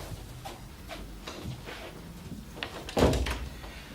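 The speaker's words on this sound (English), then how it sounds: "And shut the door." An office door in a police station is pushed shut with one solid thud near the end. Quieter shuffles and small knocks come before it and nobody speaks.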